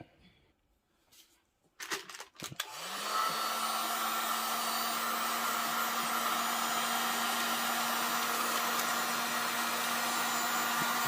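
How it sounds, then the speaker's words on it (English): After a few soft handling clicks and rustles, a heat gun starts up and blows with a loud, steady whirring hiss as it shrinks a sleeve onto a glow-in-the-dark sublimation tumbler. "use your heat gun and shrink it down so it's tight"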